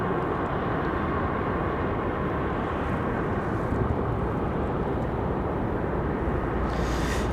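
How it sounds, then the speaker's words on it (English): An Airbus A321 airliner arriving at Raleigh-Durham airport gives a steady, loud, broadband engine roar that holds evenly throughout, with no voices. "That one arriving now just 5 minutes out for that A321."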